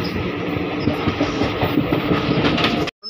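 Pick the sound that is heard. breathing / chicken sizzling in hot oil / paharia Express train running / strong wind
paharia Express train running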